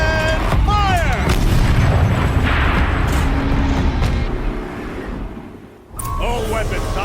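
In the Horizon Zero Dawn video game, a tank turret cannon fires loud heavy booms with rumbling blasts over dense battle noise, then a brief lull before more booming and metallic clatter. A voice calls out over the din.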